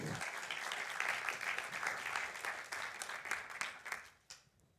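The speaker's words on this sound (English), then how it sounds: "Give him a warm hand of applause, Patrick Verwijmeren." Lecture audience applauding a speaker introduced for a talk on the stock market, a steady burst of many hands clapping that carries on for several seconds before tapering off near the end.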